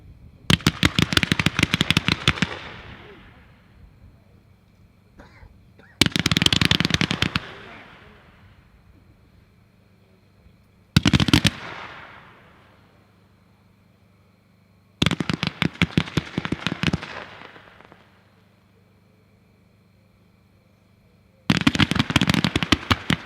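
Several 25 mm fan sweep firework cakes of 13 shots each fire in repeated loud bursts of rapid crackling reports, each volley lasting a second or two and followed by a fading echoing tail, outdoors.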